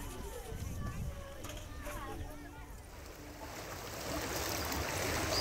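Floodwater rushes in a steady, broad roar through a flooded area of Sitamarhi, Bihar, swelling louder toward the end, with a voice speaking over it.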